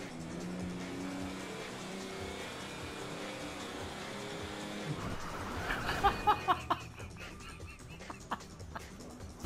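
Truck driving in GTA 5 Online during a heist, a steady engine drone with tire and road noise, then a few clattering impacts near the end, moderately loud.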